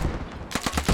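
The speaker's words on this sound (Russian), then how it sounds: "Они фобу нашу расстреливают." Machine gun fire in the World War II shooter game Post Scriptum, a burst of several rapid sharp shots in quick succession against a rumbling battlefield backdrop.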